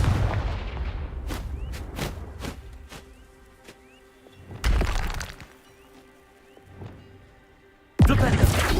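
Confringo spell blasts in Hogwarts Legacy make a series of sharp cracking bursts and heavier explosive booms, with a big blast near the middle and another at the end, separated by quieter ringing magical tones.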